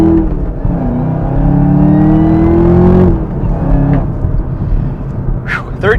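A supercharged 2021 Camaro ZL1 accelerates through its gears, engine note rising steadily before a shift and dipping, then climbing again, loud and close from the cabin with no talk.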